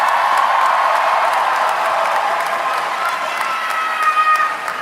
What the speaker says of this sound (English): Another round of applause for Dr. Hatem Bizian.